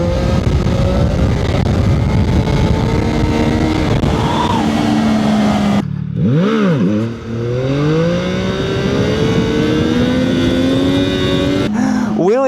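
A CFMOTO 675NK motorcycle engine loud and close through a wheelie, holding a steady drone before dropping off sharply and then rising again in a long swooping rev.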